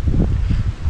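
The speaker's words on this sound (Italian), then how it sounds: "c'è un sacco di vento" Strong wind buffets the microphone beside the Molato dam in Piacenza province, Emilia-Romagna, a loud rumbling low roar that gusts in uneven pulses.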